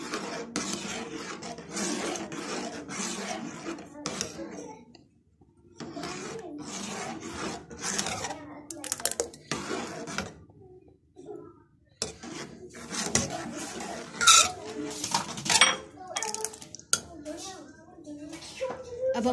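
A spoon scrapes and rasps around a pot of chicken corn soup while egg white is trickled in, giving intermittent close stirring bursts with short pauses between strokes.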